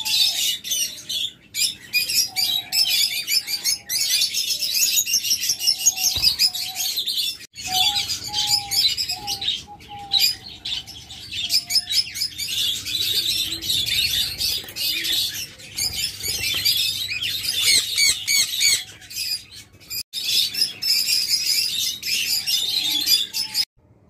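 Lovebirds at a bird farm chirp and squawk constantly, a dense flock of shrill, rapid calls up close with a few scattered louder squawks and flutters, and no talking over them.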